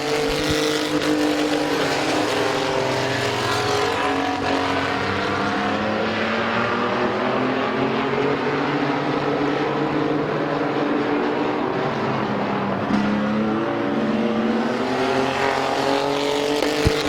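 Race trucks roar around the oval at Midvale Speedway, a continuous loud engine drone with pitch rising and falling as trucks pass through the corners, no talk heard.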